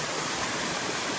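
Water running over a walking path in Madeira, a dense, steady rushing wash filling the short stretch, close and fairly loud with no voices.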